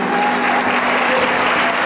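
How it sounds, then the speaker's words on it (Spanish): A church congregation applauds at a missions congress welcome, a loud, steady wash of clapping from many hands that fills the space without a break. "Denle un aplauso a Dios."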